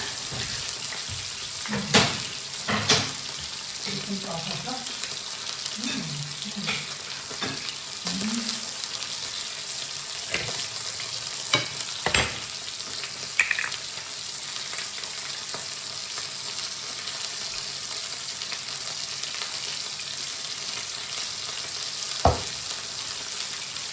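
Potatoes sizzle in a pan with a continuous soft hiss, punctuated by scattered clinks and scrapes of utensils.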